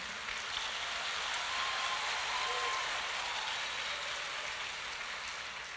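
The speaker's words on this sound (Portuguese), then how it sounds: "Aplaude ao nome do Senhor forte." Church congregation applauding steadily throughout, a dense, even wash of clapping at moderate distance, with faint voices mixed in.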